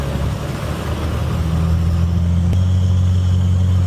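A Cirrus SR22 Turbo aircraft engine, running well past its overhaul time, rises in a run-up to about 2000 RPM, a steady low droning hum that steps up in pitch and grows louder partway through.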